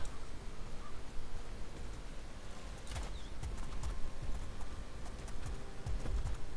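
Horses gallop in the medieval combat video game War of the Roses, producing faint, scattered hoof thuds under a steady noisy background with occasional sharp clanks.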